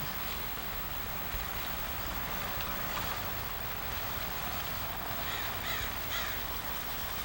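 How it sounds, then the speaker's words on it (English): A bird calls and caws repeatedly in the open air outdoors, crow-like, faint and somewhat distant against a steady wash of street and outdoor background noise. "There's a bird complaining."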